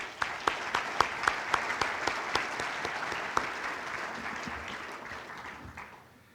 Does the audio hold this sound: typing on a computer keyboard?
no